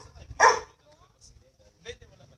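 A dog barks at strangers outdoors: one loud sharp bark near the start, then a second, softer bark about a second and a half later, with faint background noise between.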